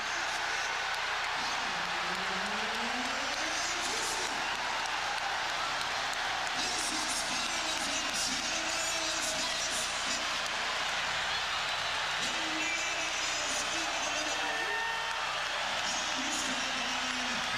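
A roaring crowd fills a basketball arena during a 1999 Knicks versus Pacers playoff game at Madison Square Garden, a sustained wash of cheering under a commentator's talk.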